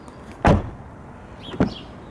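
Two solid thuds of a 2016 VW Passat B8 Variant estate car door shutting, about a second apart, each a deep, muffled slam heard close up in a quiet setting.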